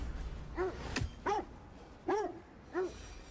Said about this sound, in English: Yeah, stop barking.